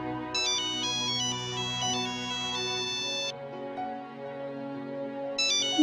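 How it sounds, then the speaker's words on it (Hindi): A melodic electronic phone ringtone plays in repeating bursts of bright tones, pausing briefly before starting again, clear and close, in a TV drama scene. "ये तो नन्नी के ससुराल से फोन आया है।"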